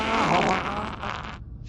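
A single loud, drawn-out fart, close and raspy, tapering off after about a second and a half.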